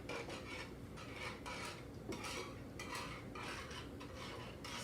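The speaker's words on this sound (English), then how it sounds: "Stir it all together." Garlic chicken sauce with half and half and heavy cream being stirred in a pan, with soft continuous scraping and clinking of the utensil against the pan, quiet and close, no talk.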